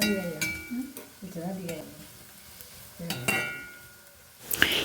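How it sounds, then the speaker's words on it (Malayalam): Ingredients fry in coconut oil as a spoon stirs them in the pan, a soft close sizzle broken by scraping strokes and a final clink of utensils. "ഇത് നന്നായിട്ട് വെളിച്ചെണ്ണയിൽ കിടന്നിങ്ങനെ മൊരിയട്ടെ ഒന്ന്."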